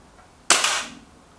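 A single sharp air rifle shot cracks out in a match between a Lee Enfield Sentry and an Artemis M11, a sudden loud burst that decays over about half a second, with no talk.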